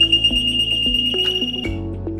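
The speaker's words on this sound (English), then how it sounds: "In order to demonstrate the high water alarm" A high-water alarm on a pivot control panel beeps steadily and loudly, high-pitched and electronic, over mechanical clunks and a low hum, close by.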